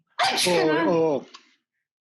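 A single loud, close sneeze during a graph neural networks tutorial, a sharp burst with a voiced tail, followed by a brief exclamation.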